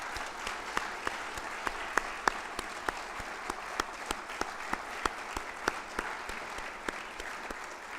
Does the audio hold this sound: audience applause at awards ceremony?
yes